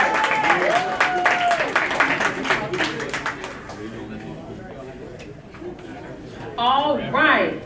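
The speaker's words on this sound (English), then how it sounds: "Clap it up for him. Give him some love." Audience at an MLK Day community event claps for a quiz prize winner, a brief burst of applause in the opening seconds under and around someone talking, fading as speech continues.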